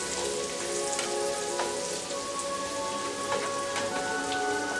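Onions and bacon fry in a pan as the onions begin to caramelize, giving a dense, continuous hiss of sizzling with scattered pops, steady and close throughout.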